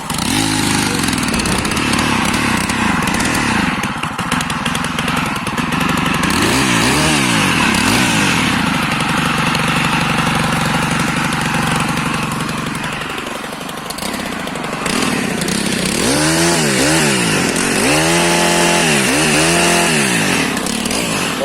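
Stihl MS 362 chainsaw started without the choke, then running loud and close, its engine revving up and down in repeated rising and falling sweeps over a continuous roar.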